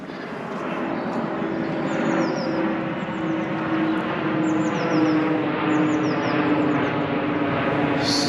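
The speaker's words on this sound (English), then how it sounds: "there's a plane landing." A fixed-wing airplane coming in to land near Richmond Park in London, a loud sustained engine roar passing close overhead, with faint birdsong chirping high above it and no talk.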